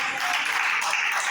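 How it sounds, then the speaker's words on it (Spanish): An audience at a church evangelism conference in Tunja claps together in a dense, steady wash of applause that holds evenly throughout, with no pauses or single claps standing out. "¿Cuánto le damos un aplauso al dueño de la obra?"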